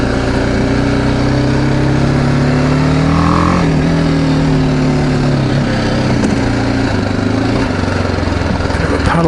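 A BMW G310GS single-cylinder adventure motorcycle being ridden, its engine a loud, close, continuous drone whose pitch rises and falls gently as the throttle shifts.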